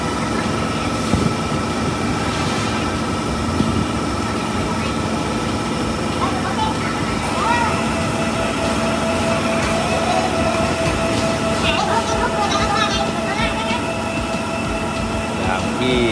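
Rubber mixing machine running in a rubber production factory, a steady mechanical hum and rumble with clanks and rattles over it, while someone talks throughout.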